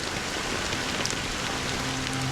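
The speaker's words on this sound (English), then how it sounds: "But it's still raining." Rain falling in the video game Honkai Star Rail, a soft, steady hiss of drops on surfaces, continuous and even with a faint low hum beneath.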